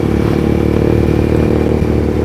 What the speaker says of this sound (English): Heard that obnoxious exhaust.